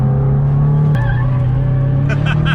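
Race car braking hard on track, BRZ versus WRX STI comparison: a loud, steady engine drone shifts pitch abruptly as the brakes bite, with brief tire squeal bursts near the end, heard close from inside the car.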